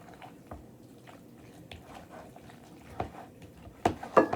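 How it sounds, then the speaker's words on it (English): A tomato, onion and avocado mixture is stirred in a bowl, giving soft wet squishing and scraping sounds at an uneven pace, with louder squelches near the end. "I'm just going to give this a stir, then see where we are"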